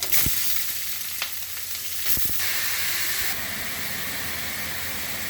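Grated ginger and bottle gourd fry in a pan for lau chingri, starting with a few sharp clacks as the gourd goes in, then settling into a steady, close hissing sizzle.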